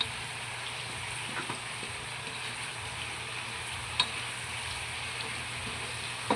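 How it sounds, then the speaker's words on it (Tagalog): Pechay (bok choy) with tomato and tofu sautéing in a pan, a steady close sizzle throughout with a few sharp clinks of a utensil against the pan. "Ito na po yung gisadong pitsay."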